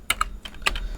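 Quick bursts of keystrokes on a computer keyboard while JavaScript code is typed, several close, crisp clicks in about a second with no voices.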